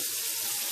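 Turkey wings brined in dill pickle juice sizzle in hot oil during a first fry, a steady close hiss and crackle with no pauses.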